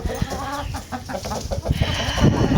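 Black hens cluck close by in short, choppy bursts, several birds murmuring and clucking over one another.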